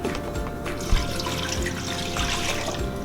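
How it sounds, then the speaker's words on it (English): Cool tap water pours steadily into a pot for apple pie filling, about 750 milliliters, as a continuous close splashing rush with faint drips throughout. "We're gonna start off with about 750 milliliters of water."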